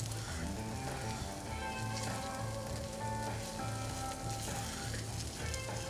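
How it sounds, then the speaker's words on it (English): Fat sizzles on the bottom of a pan while cooking a Viet-fusion dish, giving a steady, dense crackling hiss throughout that sounds close and continuous, with faint background tones. "All I'm seeing now is the fat on the bottom of the pan sizzling"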